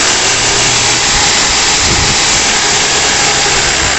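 Lotus 550W electric jigsaw running at full speed, a loud, dense, unbroken motor and blade roar held steady for the whole stretch, close to the mic, with no speech.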